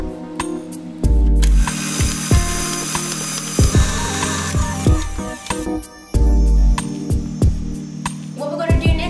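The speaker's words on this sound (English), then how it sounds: "Then add the 2 eggs and continue to beat." Electric mixer beating eggs into strawberry cupcake batter, a loud mechanical whirring with repeated clunks and rattles as the beaters strike the bowl, starting and stopping a couple of times, with no talk.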